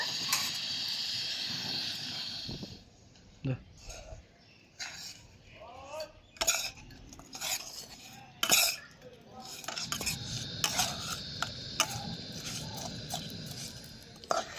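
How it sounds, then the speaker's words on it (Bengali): A spoon scrapes and clinks against a pan while a coconut and jaggery filling is stirred over the stove, with intermittent sizzling hiss and a speaking voice over the sounds. "নারকেল আর গুড়টাকে ভালো করে মিশিয়ে ঠিক এরকম একটা পুর তৈরি করে নিয়েছি"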